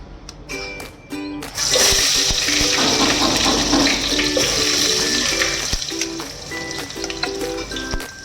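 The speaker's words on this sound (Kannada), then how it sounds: "ಫಸ್ಟಾಗಿ ಈರುಳ್ಳಿಯನ್ನು ಒಳ್ಳೆ ರೀತಿಯಲ್ಲಿ ನಾವು ಫ್ರೈ ಮಾಡ್ಕೋಬೇಕು" Sliced onions drop into hot oil for a Mangalore-style fish biryani and burst into a loud, close hiss that holds as a steady sizzle, with soft background music throughout.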